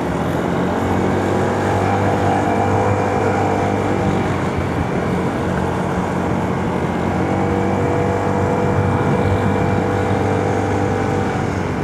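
An Aveta Nova 160 motorcycle engine droning steadily while climbing the road up Gunung Jerai, a continuous loud ride with constant wind and engine noise and no talking.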